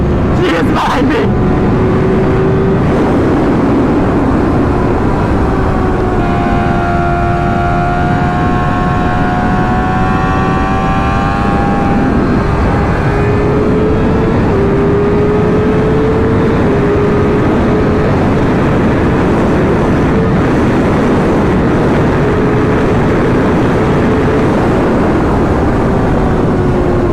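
A Chrysler car engine revs and accelerates while fleeing a police motorcycle, a loud, steady drone that rises in pitch over the whole stretch, with voices talking over it.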